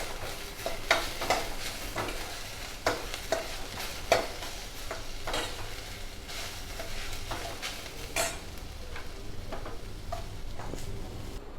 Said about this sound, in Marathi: कांदा आणि टोमॅटो छान परतून झाला का